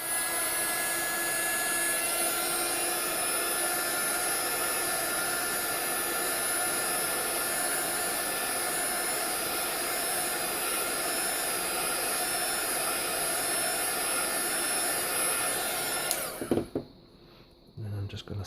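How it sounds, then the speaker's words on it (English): A heat gun warming a glued paper joint on a handmade snowman treat box, a steady loud blowing whir that runs continuously before switching off abruptly near the end. "I'm going to plug my heat gun in. And all I'm going to do is heat this joint for about 15 or 20 seconds"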